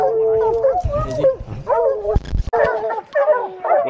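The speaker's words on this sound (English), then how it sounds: "Dog's trying to climb up me." Hunting dogs bark, howl and whimper up close on a cold outdoor hunt, a busy overlapping run of yelps and whines with short gaps between bursts.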